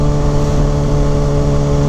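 A motorcycle engine revs hard through a fast launch and quick gear changes, a loud, steady, close-up mechanical drone with shifting tones that never lets up.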